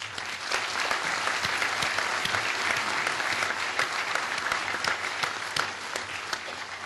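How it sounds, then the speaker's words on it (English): Applause from a symposium audience, a steady patter of many hands clapping indoors at moderate loudness, sustained throughout without talk over it. "we all owe a vote of thanks and a round of applause for Professor Dukmedjan."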